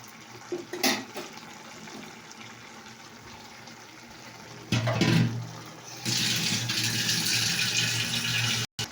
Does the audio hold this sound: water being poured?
yes